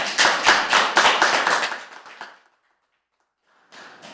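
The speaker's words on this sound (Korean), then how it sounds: "이 장애벽 허물기 오늘 영상팀에도 감사의 박수 한번 보내드립니다." An audience at a Korean public hearing on disability rights claps in thanks, a burst of brisk, fairly close applause that fades out after about two seconds, followed by a pause and a brief return of sound.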